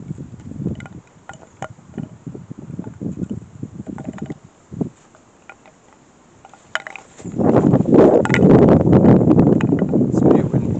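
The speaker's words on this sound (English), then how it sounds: "It's pretty windy" Gusty outdoor wind at a shrine buffets the microphone, with a loud sustained rumbling roar building after a quieter stretch; a person speaks intermittently during the first part.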